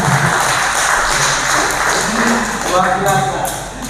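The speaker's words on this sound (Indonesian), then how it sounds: "Tepuk tangan luar biasa." Loud, continuous clapping from a crowd at an organisational accountability meeting in West Java fills the clip, with voices talking over the applause throughout.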